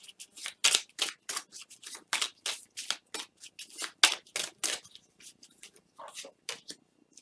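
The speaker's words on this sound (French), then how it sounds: "je vais rajouter quelques cartes ici avec l'oracle des symboles de vie" Oracle cards shuffled and dealt onto a table, a fast run of crisp riffling snaps and soft slaps, close and clear with no talking.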